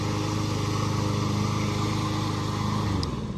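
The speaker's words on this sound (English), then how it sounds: "He's mowing the sidewalk for whatever reason, because his push mower broke" A gas lawn mower runs on a sidewalk in place of a broken push mower, giving a steady, loud, close engine drone with a dense low rumble that holds evenly and dips briefly near the end.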